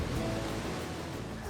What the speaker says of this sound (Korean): 이번엔 폭포수 소리인데요